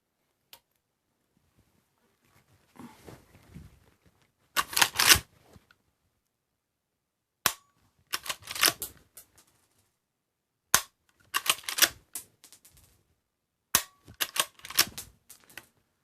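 A Henry Big Boy .357 Magnum lever-action rifle is worked repeatedly, giving sharp metallic clacks and clicks in about five separated bursts against near silence.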